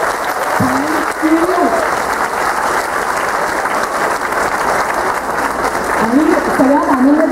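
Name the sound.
audience applause for children's performance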